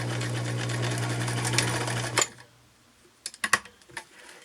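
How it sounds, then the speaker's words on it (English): Kenmore sewing machine runs a back stitch with a close, steady mechanical whir for about two seconds, then stops, followed by a few sharp ticks and clicks. "So let's make sure my machine is set right. See, back stitch."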